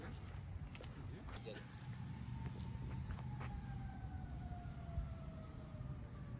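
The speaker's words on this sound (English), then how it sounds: "We're hearing these sirens, like the evacuation siren, I think." A faint, distant evacuation siren wails in long sliding tones outside an abandoned psychiatric hospital, set against a constant drone of crickets and insects.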